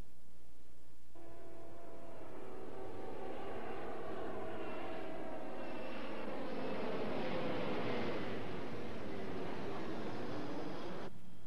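A NASA jet flies past with a broad, steady roar and a whining tone that slides downward as it passes, sustained for several seconds at moderate distance before cutting off.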